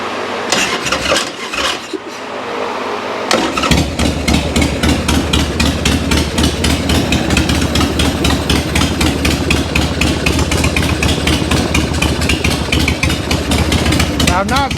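A Harley motorcycle engine on full choke, fitted with a $43 Amazon carburetor and no air cleaner, cranks over and catches, then settles into a loud, steady, fast-pulsing idle that carries on alone.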